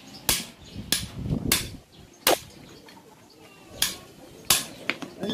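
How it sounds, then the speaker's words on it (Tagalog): Sharp metal hammer blows on a motorcycle part during a Kawasaki Fury 125 / TMX 125 conversion in a workshop, about seven loud, irregularly spaced strikes with quieter clatter between them and no speech. "Pupukpukan natin to."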